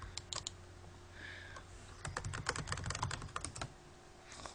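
Computer mouse and keyboard clicks made while playing Minecraft, a loose cluster of light taps and clicks close to the microphone. They are quiet and irregular, with denser bursts in the middle.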